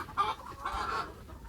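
A flock of chickens clucks close by in a short, busy burst of overlapping calls, with no talking.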